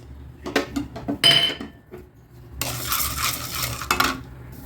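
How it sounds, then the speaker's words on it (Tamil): Chana dal (split chickpeas) dry-roasting in a pan, with clinking spoon-against-metal scrapes and rattles followed by a rustling, grainy stir of the lentils, close and moderately loud with no talk. "கடலைப்பருப்பும் நல்லா வறுபட்டுட்டு அதையும் எடுத்துடலாம்"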